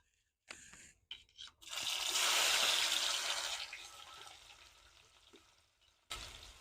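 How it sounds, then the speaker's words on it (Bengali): Five-spice seeds hit hot oil for a vegetarian Bengali potato curry, giving a loud burst of sizzling and crackling that slowly fades, with a few short clatters before and after. "তেল গরম হলে 5 ফোড়ন দিয়ে দেব।"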